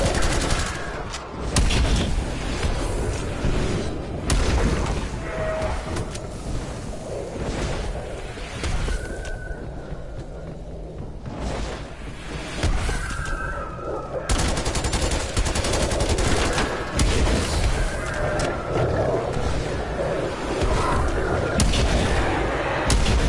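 Dense, loud gunfire from a zombies video game, with shotgun blasts, rapid bursts and booming impacts sounding almost nonstop for over twenty seconds, and brief players' chatter mixed in.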